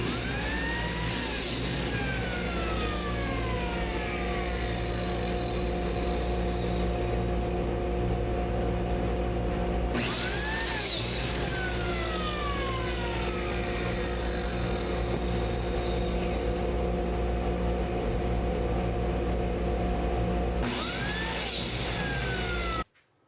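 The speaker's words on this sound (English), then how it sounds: "So off to biscuit cutting." A biscuit joiner cuts slots in wooden boards for a double bed: three whining spin-ups, each followed by a gradual wind-down, over a continuous droning hum.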